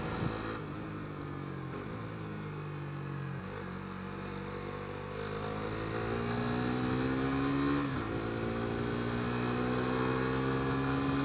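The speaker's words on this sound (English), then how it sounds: "Nice engine braking." A Suzuki GSX-S125 motorcycle engine braking while riding, its revs dropping in smooth falling sweeps between gear changes and then holding a steadier drone, heard from the rider's position over wind.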